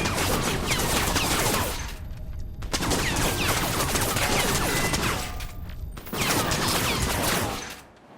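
Dense video-game gunfire from Crysis Remastered, with rapid automatic bursts of shots clattering loudly. The firing comes in long sustained stretches broken by two short lulls.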